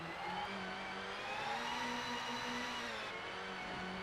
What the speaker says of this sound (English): pay attention to the car noises, because the car noises definitely are the most important part of this game